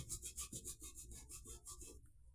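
A wet brush scrubs pen stains on a white school uniform in quick, rhythmic back-and-forth strokes. The scrubbing is close and quiet, with no talking.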